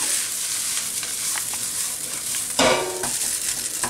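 Warm rice stirred into chilli garlic prawns in a hot pan, a continuous sizzle and scraping stir with a sharper clatter near the end, close and alone without talk.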